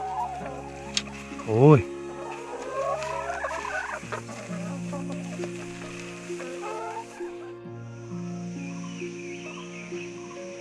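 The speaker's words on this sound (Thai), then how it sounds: "น้องไก่ผมนี้" A chicken clucks in a rural forest farm setting, with short clucks heard amid a steady hum, a voice speaking briefly over it.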